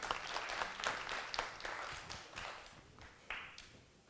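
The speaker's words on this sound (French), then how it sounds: "Sous vos applaudissements, s'il vous plaît." An audience claps at a Voix des Jeunes Guinée agriculture quarter-final, with uneven, fairly sparse clapping where individual claps stand out before the applause fades toward the end.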